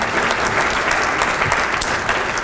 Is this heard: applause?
yes